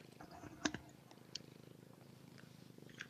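A house cat purrs close by, a soft steady rumble that runs through the whole stretch, with a few brief clicks and handling noises on top and no one talking.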